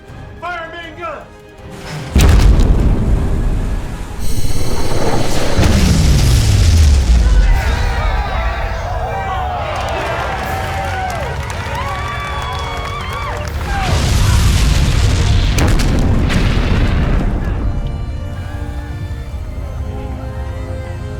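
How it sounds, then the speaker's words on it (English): Battleship main guns firing with heavy booms and explosions in a space combat video game, a deep thud followed by sustained rumbling blasts and layered sci-fi effects that swell again partway through. "Target that ship! Fire main guns!"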